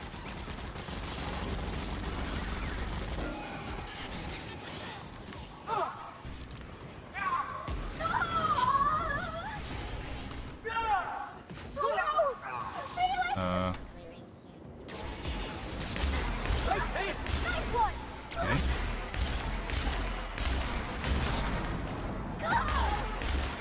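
Hacked turrets fire in The Outer Worlds during the Gorgon chapter, a dense run of gunfire bursts and mechanical clatter with game effects running throughout, briefly dropping out midway before resuming at full intensity.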